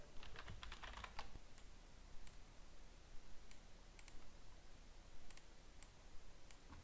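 Typing on a computer keyboard, a quick burst of clustered keystrokes at the start followed by scattered single clicks, close and quiet with no talking.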